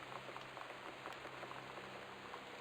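Running tap water in the video game Gone Home, used for hand washing, makes a faint, steady spattering hiss that carries on without a break.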